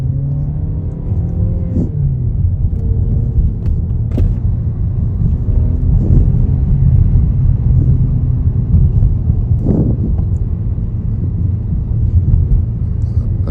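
A Volkswagen Arteon engine and exhaust drone while driving, a loud low rumble from inside the car with the pitch rising and falling through gear changes and occasional revving surges.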